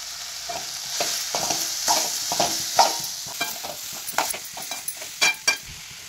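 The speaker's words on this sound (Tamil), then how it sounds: "இப்போ தேங்காயும் கொட்டி நல்லா வறுத்துக்கலாம்." Grated coconut stir-fried dry in a pan for a Tamil cauliflower gravy, with a steady sizzle and repeated scraping strokes of a spatula against the pan, close and moderately loud.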